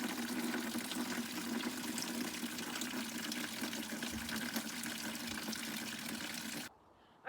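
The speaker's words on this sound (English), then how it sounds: "I'm gonna fill it up with a little bit of water" Water pours steadily from a tap into an old container, a continuous faint filling trickle that runs for several seconds and then stops abruptly.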